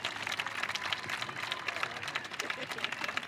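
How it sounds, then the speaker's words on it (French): Spectators at an evening show-jumping competition applaud a German rider, a busy patter of clapping with crowd murmur mixed in, steady and fairly distant throughout. "c'est une nouvelle fois à vous de donner de la voix, de donner vos applaudissements."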